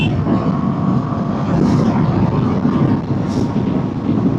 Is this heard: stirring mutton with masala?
no